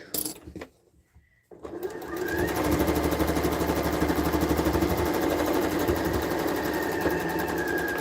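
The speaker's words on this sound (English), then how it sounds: "So back to the sewing machine." A sewing machine stitches quilt pieces with a fast, steady mechanical whirr that runs evenly after a brief start-up and some handling noise.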